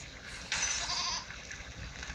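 A goat bleats in the video game There Is No Game, a single bright, wavering call over steady game background noise.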